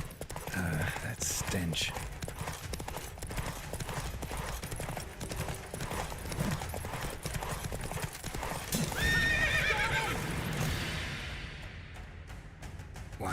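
Roach, a horse in The Witcher 3, trots with rhythmic hoof clip-clops and gives a whinny partway through, amid game ambience with a brief spoken line over it.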